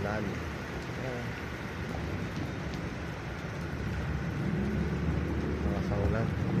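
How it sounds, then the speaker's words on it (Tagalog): Heavy rain pours in a dense, steady roar that swells slightly toward the end, with faint voices briefly audible underneath. "Sobrang lakas ng ulan."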